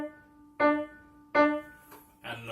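Three short, detached notes with clear gaps between them, played staccato at a moderate pace, the last one sounding slightly different from the first two; near and fairly quiet, with no voices.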